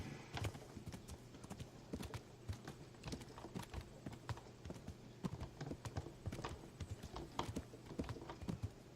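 Horse hooves clopping in the medieval game Kingdom Come Deliverance, a quiet, steady run of sharp hoofbeats at walking pace throughout.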